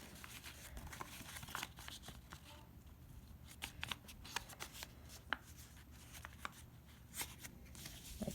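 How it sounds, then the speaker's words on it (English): Paper being folded and creased by hand while making a paper 1x1, with a run of soft crinkles and sharp creasing taps spread through the clip, quiet and close with no talk. "fold this flap to the crease"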